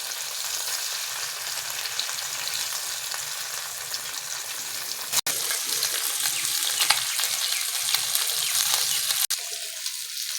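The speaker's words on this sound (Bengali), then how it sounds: "ঢাকা করে রাখা ডিমগুলো এবার ভেজে নেব।" Boiled eggs fry in oil, giving a steady, even sizzle that runs throughout, broken by a couple of brief dropouts and occasional soft stirring sounds.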